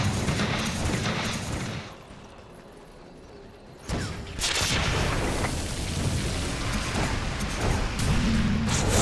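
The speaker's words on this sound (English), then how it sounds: "Explosions! Explosions!" Booming explosions and crackling combat during a tower attack in a Dota ability-draft match, dense and loud, dipping briefly before a sharp new burst and continuing rumble.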